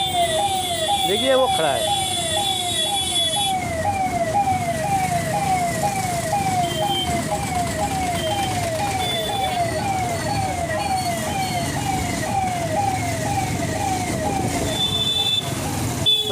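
An ambulance siren wails in a fast repeating yelp over traffic rumble, steady and fairly close, while a person speaks briefly over it.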